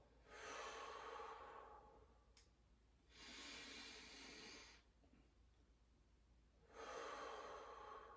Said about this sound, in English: make sure you're breathing in through the nose